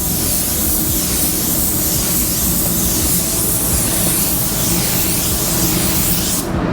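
Spray gun fitted with a 3M fine finish nozzle laying base coat onto a car door, a loud continuous hiss that holds steady for several seconds and cuts off at the end, with no talking.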